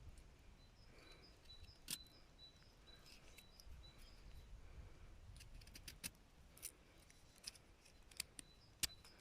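A grapevine cutting is split down the middle for grafting, giving several sharp, faint clicks and snips over a quiet outdoor background.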